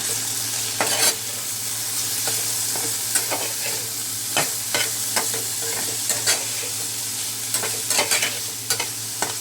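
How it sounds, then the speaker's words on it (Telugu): Chopped tomato frying in a pan with shrimp and eggplant, stirred with repeated scraping strokes over a steady close sizzle, no voices. "ఒక టమాటా సన్నగా ముక్కలు కోసుకున్నాను, ఆ టమాటా వేస్తున్నాను. ఒకసారి కలుపుకుందాం."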